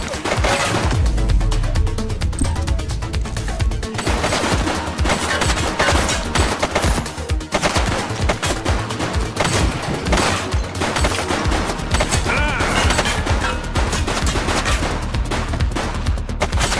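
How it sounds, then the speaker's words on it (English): Rapid bursts of automatic gunfire and single shots crackle through a police shootout in The Precinct video game, loud and continuous over a low rumbling game soundtrack for the whole stretch. "Shots fired!"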